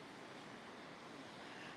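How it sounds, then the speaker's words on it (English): Ocean waves and surf make a faint, steady wash of broadband noise, soft and continuous, with no distinct breaks. "I'm just looking at the nice waves out there."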